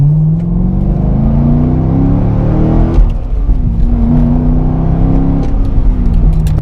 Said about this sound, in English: And this engine just sounds amazing, which I'll show right now.